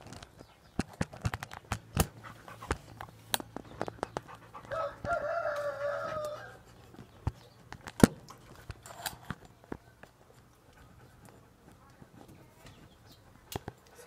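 A neighbor's rooster crows once at moderate distance, a drawn-out call rising over scattered clicks, taps and faint background noise.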